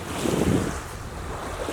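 Ocean surf by the shore, with a broad wash of breaking waves swelling early and settling into a steady rushing roar, plus some wind buffeting the microphone; no voices.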